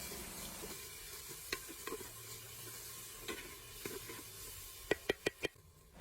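Garlic, onion and ginger sauté with fish sauce in a pan, a soft steady sizzle broken by scattered stirring scrapes and a quick run of four sharp utensil taps near the end.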